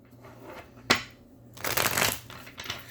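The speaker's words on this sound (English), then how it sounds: "Let me just do some more shuffling." Tarot cards are shuffled close up: a sharp snap, then a longer riffling burst and a final short flutter, with no voices.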